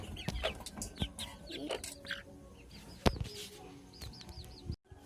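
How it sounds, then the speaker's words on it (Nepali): Hens cluck in short bursts alongside chirping birds and calls of chicks and ducks, fairly close, with scattered knocks and rustles in the yard. "यहाँ कुखुरा पनि छ, चल्ला, हाँस, चिनी हाँस, यो कुखुरा"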